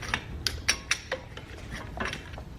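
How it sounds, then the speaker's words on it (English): On a Toyota Camry Hybrid, a pusher tool forces a front brake caliper piston back, making a quick series of small metallic clicks and ratcheting ticks, close and fairly quiet. "take the pusher tool and push that piston back"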